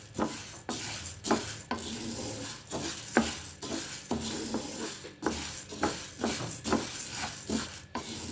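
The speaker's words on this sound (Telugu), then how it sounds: "ఇలా ఎర్రగా వచ్చే వరకు వేగించుకోవాలి." Urad dal roasts in a pan until reddish while a spoon stirs it, giving a soft, continuous sizzle broken by frequent scraping and clinking against the metal.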